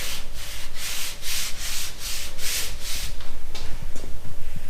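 A hand rubs across car paint left rough by overspray contamination, making a rhythmic, gritty sandpaper-like scrape in repeated back-and-forth strokes, close and clear.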